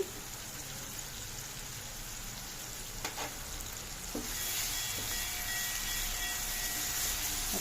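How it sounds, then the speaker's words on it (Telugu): Gongura chicken masala with tomato and chili powder fries in a pan with a close, crackling sizzle. It grows louder and fuller partway through and carries on steadily with no voices. "మొత్తం చక్కగా వేగిపోతాయి"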